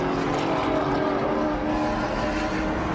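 Race cars roar past at Sebring Raceway in a vintage group race, with an all-silver Shelby Cobra among the Fords in the field; a loud, continuous engine blare with no voices.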